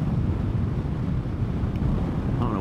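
Wind roars steadily across the microphone while riding a Vespa GTS 300 Super Sport scooter into a strong headwind, a dense low buffeting rumble that continues without letup.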